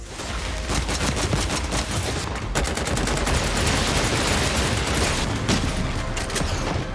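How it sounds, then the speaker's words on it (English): Gunfire from the shooter game Synced: Off-Planet, recorded from real weapons: loud, rapid automatic bursts with sharp mechanical clatter, short gaps between bursts and a sustained barrage. "All the gun sound assets are recorded from real weapons in various exterior and interior environments."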